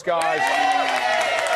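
An audience applauds and cheers for a reality TV guest on a studio chat show, a steady wash of clapping that carries under a host's voice talking over it.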